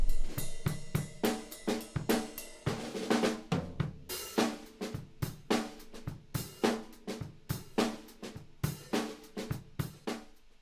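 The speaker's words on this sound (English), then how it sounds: "let's just listen to the raw version of recording drums the MOAB way" An unprocessed live drum kit captured with a single stereo microphone plays a steady rock groove, punchy kick and snare hits with splashy cymbal crashes, somewhat roomy and uneven in level, with no talking.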